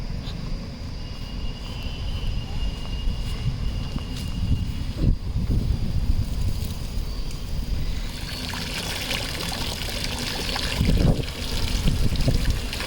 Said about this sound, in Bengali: মাছের টপটাতে একটু জল দিতে হবে।